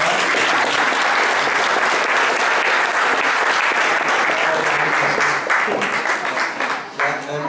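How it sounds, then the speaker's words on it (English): Wedding guests applaud during the speeches, a dense, sustained round of clapping filling the room for several seconds before tapering at the end. "So, give a round of applause."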